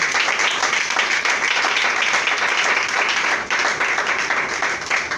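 A church congregation applauds loudly and steadily, with dense overlapping claps that thin out slightly toward the end.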